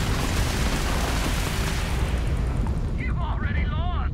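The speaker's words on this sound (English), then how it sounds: "Oh my god, I have missiles." Missiles launching in the space game Starfield: a dense, continuous roar of blasts and booms fills the whole moment, loud and sustained, with a voice rising faintly near the end.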